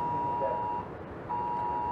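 A phone's emergency alert tone sounds for a flash flood warning during a storm: a loud, steady electronic beep that drops out briefly and then resumes, with no voices.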